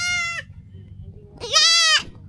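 A goat bleats twice close by, a short cry followed by a longer, louder one after a pause.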